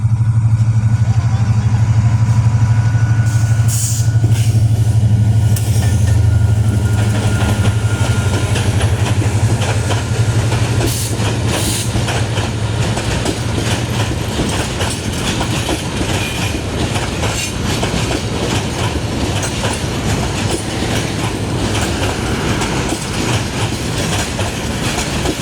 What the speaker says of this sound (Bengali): দেখতে পাচ্ছেন বুড়িমারি এক্সপ্রেস পার হয়ে যাচ্ছে রহমতলা ব্রিজ।